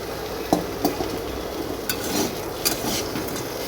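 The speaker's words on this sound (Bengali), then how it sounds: "তারপর মাছ ভাজাগুলো এর মধ্যে মিশিয়ে নিলাম" Fried bata fish being stirred into a vegetable chorchori in a pan, with scraping spoon strokes and light clinks over a soft background sizzle, close and intermittent.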